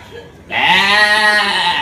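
A goat lets out one loud, close, sustained bleat that quavers for over a second, following a quieter moment of background noise.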